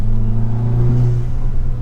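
Turbocharged car in Sport Plus mode with a Pedal Commander throttle controller, engine rumbling and revving up briefly as the gas pedal is pressed, close and loud with no talking.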